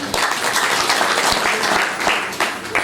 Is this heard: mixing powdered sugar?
no